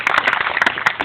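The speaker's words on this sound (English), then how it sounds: "Let's have a big round of applause for all of that." Audience applause at a golf event: a short burst of steady clapping from a crowd, moderately loud, with no talking over it.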